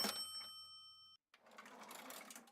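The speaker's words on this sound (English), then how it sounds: "That sounds like a broken cash register." Cash register sound effect that sounds broken: a sustained metallic ring with steady tones cuts off abruptly, then after a short gap a rough, clattering mechanical rattle follows, fairly loud and alone.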